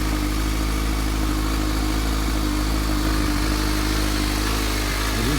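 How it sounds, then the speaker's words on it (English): A stock-exhaust Suzuki GSX-S750 motorcycle idles steadily nearby, giving a low, even, fairly quiet engine hum with a light mechanical clatter and no talking. "it's quiet as hell, as to be expected. It's a stock exhaust."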